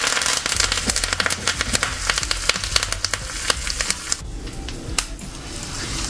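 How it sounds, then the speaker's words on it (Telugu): Curry leaves dropped into hot ghee or oil for a tempering crackle and spit sharply, a dense run of close, loud pops and sputters over a steady sizzle, easing off slightly near the end. "చివరగా కొంచెం కరివేపాకు వేసుకున్నాను."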